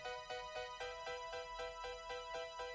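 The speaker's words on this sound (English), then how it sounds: "And then the guitars come in a little bit." A rock band plays a steady driving groove, with distorted electric guitars joining over keyboards and a regular pounding beat.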